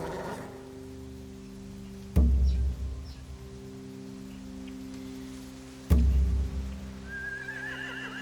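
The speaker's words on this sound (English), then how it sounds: "If we cut those horses free, we could slow down anyone trying to chase us." Horses in The Walking Dead video game give two sharp, loud neighs a few seconds apart over a low, steady musical drone.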